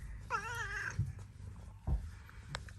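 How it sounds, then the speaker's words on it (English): A cat in a bric-a-brac shop in Thailand lets out one drawn-out, wavering meow close by. A few soft thumps and a low background hum follow it. "This cat's following us around."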